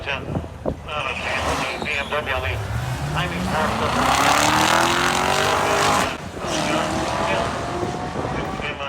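A BMW M235i racing a 2017 Corvette Z06 on a track, engines roaring loud and close with a rising pitch sweep as the cars accelerate, wind buffeting the microphone throughout.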